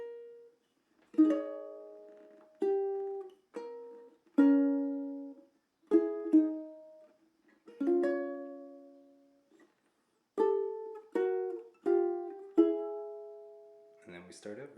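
Ukulele plucking the fourth section of a song, a close, clear sequence of about a dozen ringing notes and double-stops with short pauses between phrases, each decaying gently.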